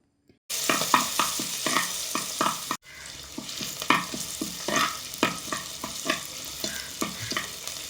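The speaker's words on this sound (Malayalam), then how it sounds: "നല്ലപോലെ ഒന്ന് ഇഞ്ചിയുടെ പച്ചമുളക് മാറിപ്പോകുന്ന പോലെ നന്നായിട്ടൊന്ന് ഇളക്കി കൊടുക്കണം" Ginger, garlic, green chillies and curry leaves frying in oil, with a spatula stirring in quick rhythmic scrapes over a steady sizzle, close and clear, after a brief pause.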